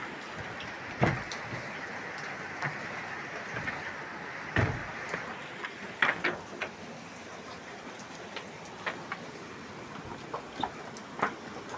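Steady rain falls near a bridge in the Philippines, a constant hiss broken by scattered louder drops and splashes, with no one speaking.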